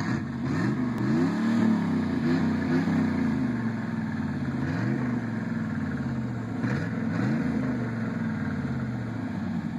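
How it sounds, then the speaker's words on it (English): A custom 1990 Chevy 1500 truck with its muffler removed revs repeatedly, the loud, raw exhaust rising and falling in several throttle blips over a rumbling idle, close and alone. "I just took the muffler off my truck and this is what it's gonna sound like."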